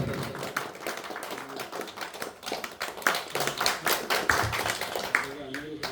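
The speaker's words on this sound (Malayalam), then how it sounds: "നല്ലൊരു കയ്യടി കൊടുക്കേ." An audience at an award ceremony for a film company's welcome event claps in a dense, lively burst of applause, fairly close and steady, with voices mixed in underneath.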